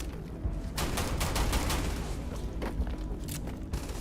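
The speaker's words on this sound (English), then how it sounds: "They're shooting rocks at me." Enemy gunfire in Starfield, a rapid fusillade of sharp shots in clustered bursts over several seconds, with booming impacts and faint footsteps mixed in.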